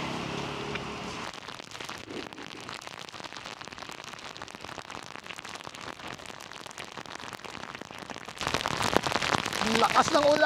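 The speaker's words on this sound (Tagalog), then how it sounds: "Ang lakas ng ulan." Heavy rain pours down on a street, a dense steady hiss of drops hitting surfaces that swells louder near the end, with occasional voices underneath.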